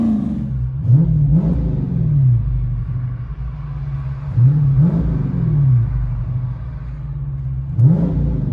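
Close, loud idle burble from a Dodge Charger Scat Pack's 6.4L HEMI V8 through race exhaust, broken by three quick throttle blips spaced a few seconds apart, with no voices.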